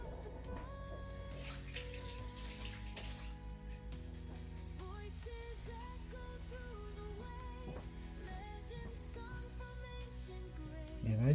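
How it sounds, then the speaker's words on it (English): A steady stream of hot water pours from a Keurig coffee maker, running continuously and fairly close beneath soft background music. "And I just run my water through my Keurig."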